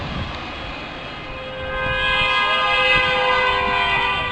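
A car horn blares at a street demonstration in Saint-Dizier, one long sustained honk that swells louder partway through and stays steady over the background street noise.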